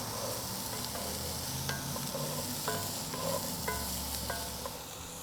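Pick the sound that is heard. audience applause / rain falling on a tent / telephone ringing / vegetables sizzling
vegetables sizzling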